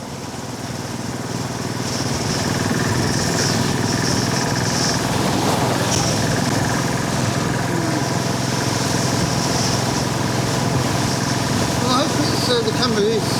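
A motorcycle engine idles steadily and close by at a street stop near sewer roadworks, a continuous mid-pitched rumble running under occasional faint background noise.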